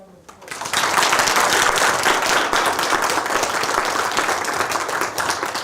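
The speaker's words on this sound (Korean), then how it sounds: "아주 좋은 강의를 했는데 큰 박수 한번" Students in a lecture hall burst into sustained, dense applause after a university finance lecture, rising quickly and holding steady and loud for several seconds.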